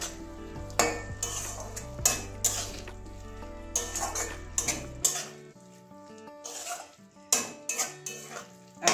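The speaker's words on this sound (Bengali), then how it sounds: "এবারে ভালো করে মিশিয়ে দেবো ধনেপাতাটা।" A spoon stirs chopped coriander into bitter gourd curry cooked with mustard paste in a pan, with repeated scraping clicks of metal on the pan over a soft sizzle, close and irregular, under a continuous musical background.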